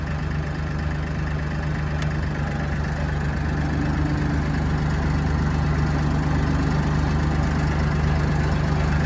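Massey Ferguson 1835M 36 hp compact utility tractor engine idling in gear, a steady, loud, low droning hum that stays constant throughout.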